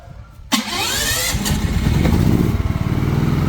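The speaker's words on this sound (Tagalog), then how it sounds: "Buksan natin yung tangke. And then push start natin." Philking PK9000 inverter generator push-started on LPG: after a short quiet moment, the engine catches abruptly and settles into a steady, loud, close running hum with a rough low rumble.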